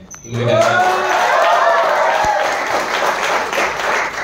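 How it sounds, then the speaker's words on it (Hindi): An audience at a teamwork talk bursts into sustained applause that swells quickly and stays full, with a voice speaking briefly at the start before the clapping takes over. "ताली से कंग्रेचुलेशंस करिए कि वो 5 साल मेरे भी कंप्लीट हुए"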